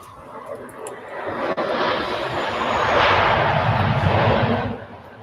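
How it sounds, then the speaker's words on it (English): A Saudi Boeing 787-10 Dreamliner at Birmingham Airport makes a broad jet-engine roar that swells and holds steady at moderate distance, with a brief sharp click early on. "Nice engine noise from the Dreamliner there."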